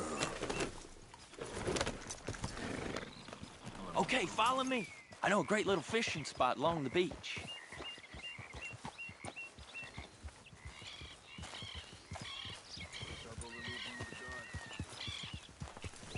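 Horse hooves clip-clop steadily under Red Dead Redemption 2 game music and speech, with birds chirping faintly in the background.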